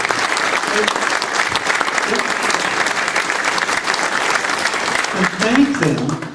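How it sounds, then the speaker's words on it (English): Audience at a gubernatorial candidates' forum applauding the candidates, a loud, sustained burst of crowd clapping that runs the whole length, with a voice starting to speak near the end. "Let's give them a applause."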